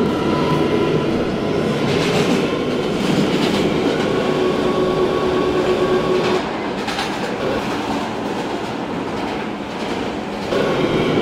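An R179 C local subway train runs between Shepherd Avenue and Euclid Avenue with a continuous loud rumble, rhythmic wheel clatter and faint squeals, heard close from inside the car.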